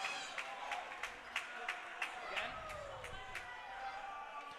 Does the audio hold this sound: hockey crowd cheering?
yes